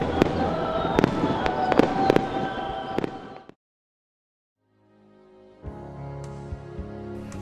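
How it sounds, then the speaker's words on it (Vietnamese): Fireworks at a night festival in the seaside town of Cửa Lò, Vietnam: a rapid volley of loud sharp bangs and crackles, then a brief silence before another burst of booms with a faint crowd murmur. "Đêm hội kết thúc bằng màn pháo hoa"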